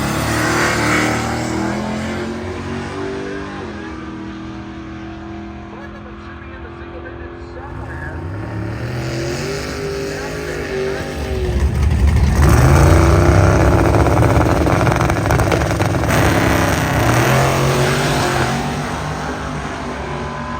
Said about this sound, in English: Bernie and the Honda got off the starting line first.